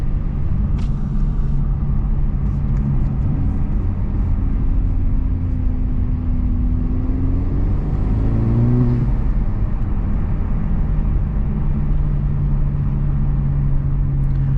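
A Honda Civic Type R FL5 drives along with a steady, close, low engine and road rumble, the engine tone rising and then dipping midway before settling back to a constant drone.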